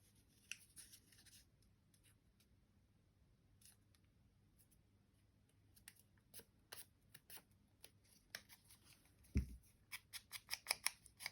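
Scissors snipping through paper from a 6x6 paper pad during a card-making craft session, a run of short, crisp, close cuts that grow busier and more rhythmic toward the end, with faint rustling between snips.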